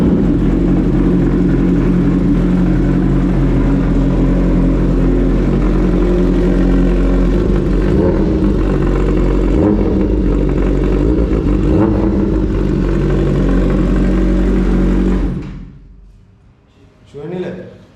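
A second-hand Kawasaki superbike runs loud and close inside a Kolkata showroom, with a steady, deep engine roar holding for about fifteen seconds before it abruptly cuts off, leaving a brief softer noise.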